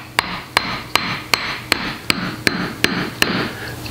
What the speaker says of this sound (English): I want you to listen as the arbor plugs, the barbs, start to come in contact with the xylem.